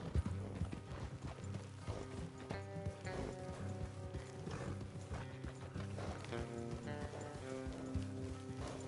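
Horse hooves clip-clop steadily along a trail in the Western video game Red Dead Redemption, a continuous rhythm of footfalls under dense game music and ambient mechanical sounds.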